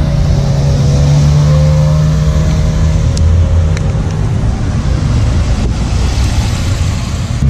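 A red Ferrari 458 supercar accelerates close by, its engine roaring loudly and continuously with shifting tones for several seconds amid heavy wind and road noise, no voices.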